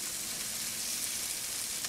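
Marinated chicken pieces, just flipped on a grill, sizzle in a steady, dense hiss with a faint crackle throughout, close and fairly quiet, with no talking.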